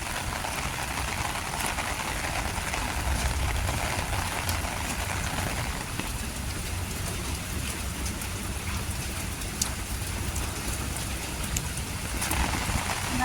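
Heavy rain pouring steadily outdoors near a supermarket, a dense continuous hiss of drops hitting surfaces with scattered sharper splashes throughout.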